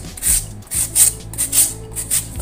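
An ingredient for an egg omelette is grated by hand in short rasping strokes, about six close scrapes in quick succession with no talking.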